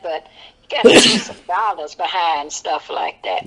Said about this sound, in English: Yeah, that was a little sneeze real quick.